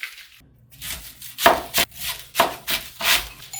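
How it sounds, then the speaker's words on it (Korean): Knife slicing through napa cabbage being cut into thirds and halved for salting before kimchi, a series of crisp crunching cuts with short pauses between them, close and fairly loud, no talking. "이렇게 배추를 3등분을 해서 반을 잘라주세요."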